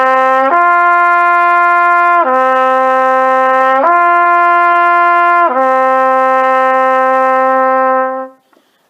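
A French horn plays warm-up notes close and loud. It holds four long, steady tones that step up and down in pitch, then the last note fades out, with no voices.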